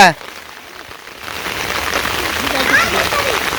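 Rain falls steadily in a village setting, a broad hiss that grows slightly louder after a brief quiet start, with a voice talking over it.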